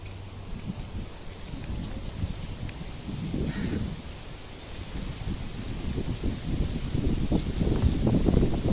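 Strong wind roars and buffets nearby in a continuous low rush, swelling in gusts, with a rustling texture throughout, around a moringa tree being cut.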